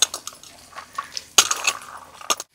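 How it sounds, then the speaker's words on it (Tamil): Chopped carrots, peas, beans, green chillies and capsicum are tipped into a metal cooking pot in a village kitchen, giving scattered light clatters, a louder clattering burst midway and another near the end. "எல்லாத்தையும் ஒரே டைமில் கொட்டியாச்சியா?"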